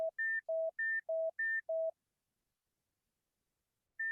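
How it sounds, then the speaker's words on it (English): Pure test tones used in an auditory grouping demonstration: two alternating pitches step back and forth in a steady, evenly spaced sequence of short beeps, then fall silent before one higher tone returns at the end. "it depends on the frequency gap between the simultaneous tones"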